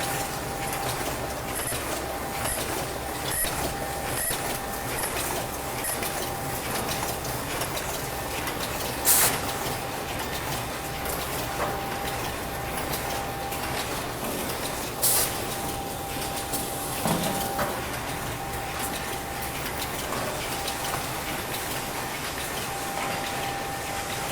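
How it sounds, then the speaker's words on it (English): A two-set paper cup and bowl making machine with a feeder and packing line runs continuously, producing a dense mechanical hum and whir with a steady tone, a few sharp hissing bursts and clunks, and no speech. "two-set paperboard machine with Wobtape feeder, and with packing machine"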